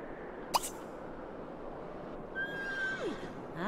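A horse whinnies in The Sims 3 on a farm, a short rising call early on, then a longer drawn-out neigh with falling tones over a steady background hum and murmur.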